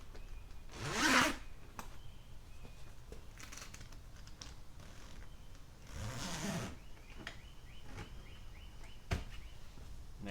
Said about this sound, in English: Do your zippers.